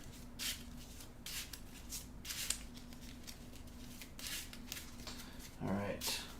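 A deck of cards for the Marvel Champions card game is shuffled in quiet, soft broadband riffles and flutters of paper scattered across the moment, with a steady low hum beneath and a brief thud near the end.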